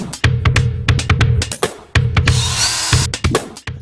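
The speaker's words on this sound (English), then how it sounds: "Drill some small holes," A power drill bores small holes in the plastic of a car dashboard in a rapid series of short, loud, close bursts, each stopping abruptly, with no voices.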